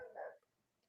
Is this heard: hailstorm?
no